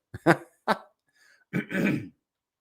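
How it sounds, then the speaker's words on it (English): A person clears their throat a few times in short, rough bursts, close and fairly loud, with brief pauses between. "Sorry, guys, for clearing my throat."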